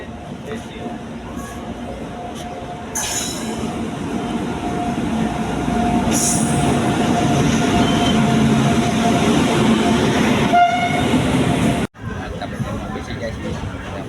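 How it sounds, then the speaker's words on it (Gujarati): A train rumbles and gradually picks up, its steady mechanical noise growing louder with faint rattling, under a murmur of voices, then briefly cuts out. "ટ્રેન ચાલતી પણ થઈ ગઈ છે"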